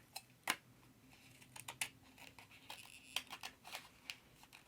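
Scissors snip out a paper sticker at a craft table, giving a quiet, irregular run of short crisp cuts and clicks with no voices.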